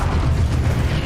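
A Confringo blasting spell explodes in the video game Hogwarts Legacy, a short, loud, rumbling boom with heavy low-end that fills the whole moment.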